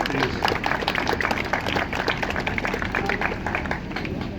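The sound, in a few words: round of applause at bus depot open day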